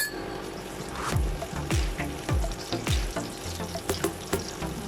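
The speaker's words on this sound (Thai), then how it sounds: "ขิงลงไปเคี่ยวด้วยนะคะเพื่อความหอม" Ginger sizzling and frying in hot oil for Thai chicken rice, a steady crackle with a few louder sputtering bursts and stirring clatters, close and fairly loud with no talk.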